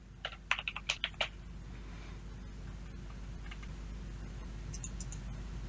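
Typing on a computer keyboard in Visual Studio, a short burst of six crisp keystrokes up front, then faint scattered clicks over a steady hum.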